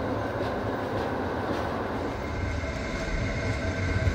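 A Diesel or electric passenger train on the Oradea to Püspökladány cross-border line pulls away with a steady rumble and rolling wheel noise, continuous and fairly close, with no voices.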